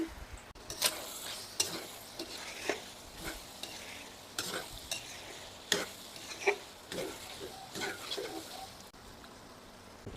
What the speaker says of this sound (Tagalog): Yun, pwede na natin haluin.